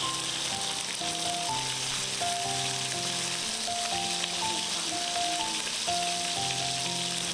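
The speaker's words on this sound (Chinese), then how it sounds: "把腌制好的鸡翅夹入锅中，注意要开小火慢煎，不然很容易糊" Chicken wings pan-fry in hot oil over low heat, giving a steady close sizzle and crackle that runs without a break under soft background music.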